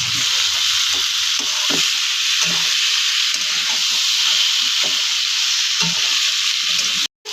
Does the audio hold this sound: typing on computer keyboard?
no